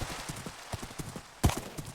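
A horse ridden in Minecraft clip-clops steadily, with quick rhythmic hoofbeats at close range and one louder thud near the middle.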